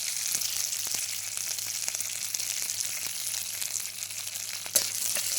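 Curry leaves and sugar sizzle steadily in a frying pan, a bright, even hiss lasting throughout, with a single louder stirring clack near the end.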